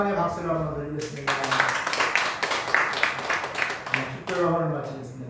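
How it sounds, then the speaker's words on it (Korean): Church congregation claps together in praise, a burst of rapid hand claps lasting a few seconds, framed by a voice speaking before and after. "우리 하나님께 영광의 박수를 한번 드리겠습니다"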